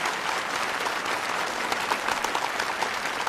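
Steady audience applause at a live event, dense clapping sustained throughout at close range with no talking over it.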